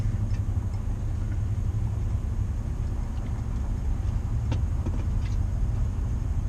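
A car rides along with a steady low engine and road rumble heard from inside the cabin, constant and moderately loud, with no talk.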